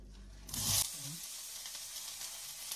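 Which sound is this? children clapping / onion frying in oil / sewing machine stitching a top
onion frying in oil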